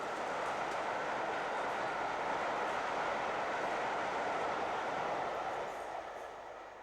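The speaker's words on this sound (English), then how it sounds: "Duke of Gloucester, the last express passenger locomotive built by British Railways, charges down the East Coast Main Line with a special from King's Cross to Stockport" The British Railways express steam locomotive Duke of Gloucester hauls a special along the East Coast Main Line, passing as a loud, continuous rushing roar of train noise that fades slightly at the end.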